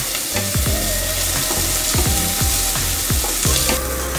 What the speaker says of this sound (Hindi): थोड़ा सा हम इसे भूनेंगे।